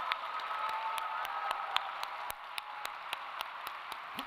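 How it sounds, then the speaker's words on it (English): Faint applause at a Rutgers School of Management and Labor Relations 2023 convocation ceremony honoring faculty, scattered distinct claps over a soft steady wash of room noise, fairly distant. "Please join me in a round of applause for the faculty."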